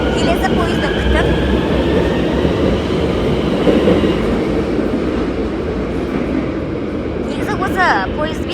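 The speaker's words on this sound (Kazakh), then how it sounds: "Міне қараңыздар, пойыз келесі станцияға кетіп бара жатыр." An Almaty metro train pulls out of Moskva station, a loud, steady rumble of wheels and motor filling the platform, with a brief squeal near the end.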